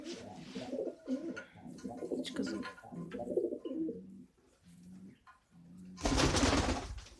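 Pigeons at a nest with eggs coo in repeated low, rolling phrases close by, with short pauses, before a sudden loud rushing burst at the end.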